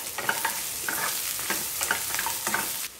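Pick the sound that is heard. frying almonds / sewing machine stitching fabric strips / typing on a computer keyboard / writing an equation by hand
frying almonds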